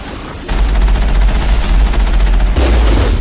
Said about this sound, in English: the enemies on the bridge are shooting at me now